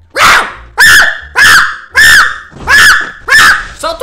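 A man imitates a dog with his voice, giving six loud, harsh bark-like yelps in a steady rhythm, each clipped and close, during a Free Fire gaming session.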